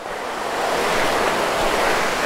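Rushing water from a waterfall near Nainital fills the scene with a dense, continuous roar, loud and close, steady from start to finish with no voices over it.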